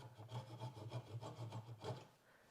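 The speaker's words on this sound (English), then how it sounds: "I ended up getting out my thickest, most aggressive jigsaw blade, and I've just been sort of nibbling away at this" A jigsaw fitted with a thick, aggressive blade nibbles at a wooden workpiece in short, repeated passes, giving a close, loud rasping buzz that pulses in quick strokes.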